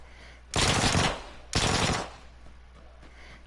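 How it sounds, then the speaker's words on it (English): Two loud bursts of Tommy gun fire in a video game, each about half a second long with a short pause between, heard alone. "Let's see what we can do with the Tommy gun."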